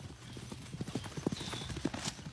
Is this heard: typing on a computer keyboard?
no